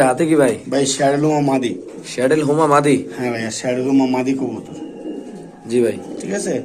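Pakistani pigeons coo softly in the background while someone talks loudly and almost continuously over them.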